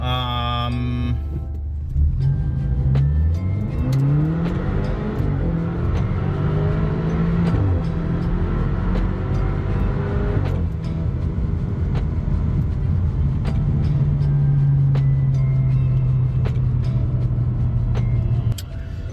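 A tuned BMW F30 328i with the N20 engine makes a full-throttle pull on 91 octane, its engine note rising steadily through the gears with shifts between, loud and close throughout.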